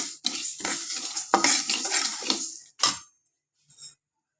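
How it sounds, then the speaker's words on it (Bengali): Mung dal fried in a pan: busy rattling and scraping stir strokes for under three seconds, a short final scrape, then silence and one faint clink. "মুগ ডালটা নিলাম, এটাকে এভাবে ভেজে নিব।"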